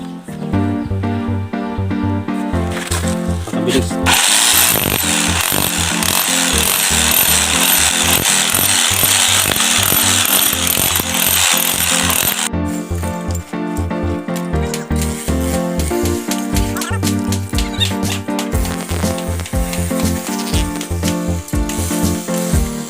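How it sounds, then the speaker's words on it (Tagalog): A rotary hammer drills small holes into a concrete post, giving loud, close, continuous hammering with a couple of brief pauses and no talk. "ngayon gagamitin natin itong rotary hammer"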